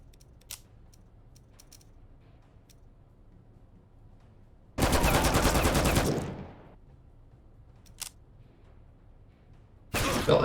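A submachine gun fires in the video game Empire of Sin: one loud, sustained rapid burst lasting over a second, a few faint isolated clicks, then a second burst starting at the very end.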